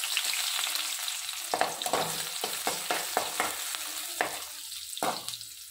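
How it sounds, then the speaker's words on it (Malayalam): Chopped shallots go into hot oil with whole spices, and a spatula stirs them through a constant bright sizzle with a series of close, rhythmic scraping strokes. No one speaks. "അപ്പോൾ ഇത് പൊട്ടിക്കഴിയുമ്പോഴത്തേന് ചെറിയുള്ളി ചേർത്ത് കൊടുക്കാം."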